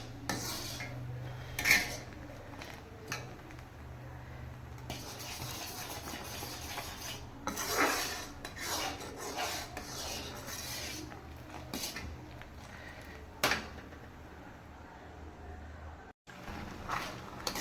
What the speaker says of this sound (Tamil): இந்த மாதிரி ஆகும்போதெல்லாம் கிண்டிகிட்டே தான் இருக்கணும், நம்ம விடக்கூடாது.